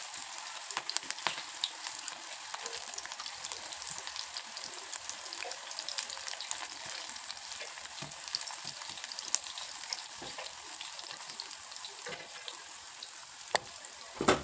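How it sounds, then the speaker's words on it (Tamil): Cauliflower pieces deep-frying in hot oil, giving a steady, close sizzle with constant fine crackling and occasional sharper pops, going on alone with no talk. "இப்போ நான் ஒவ்வொரு காலிஃப்ளவராக போடுறேன். எப்பயுமே ஒன்றா தான் போடணும், இல்லைன்னா ஒன்றோட ஒன்று ஒட்டிக்கிடும்."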